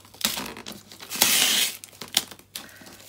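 Packaging of a diamond painting kit being cut and torn open, giving close crinkling and ripping bursts with a longer loud tear in the middle and short crackles after, no talking.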